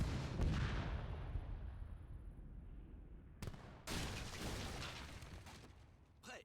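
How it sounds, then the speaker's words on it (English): Cannon fire against an outpost in the strategy game Age of Empires III, heard as a dense stretch of booming blasts and rumbling impacts with a sharp burst partway through, loud and continuous with no talk. "It's nice to have my cannons outrange that outpost, so I can just take it down fast."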